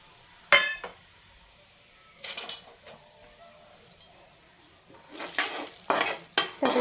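Whole spices, a bay leaf, cumin, Kashmiri chili powder and turmeric frying in oil in a pan, stirred with a utensil: a sharp clink and scrape, quiet sizzling, then louder bursts of stirring and sizzle near the end.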